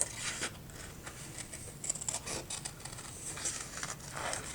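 Scissors snip through black paper to cut out a typewriter shape, a series of quiet, close crisp cuts and rustles at an irregular rhythm.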